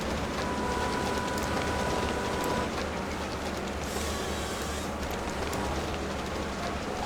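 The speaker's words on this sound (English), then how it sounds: "Okay, the train might be coming again," A train rumbles along a railway line in the Farming Simulator 22 video game, a steady continuous rolling roar with faint rattling throughout, heard alone without talk.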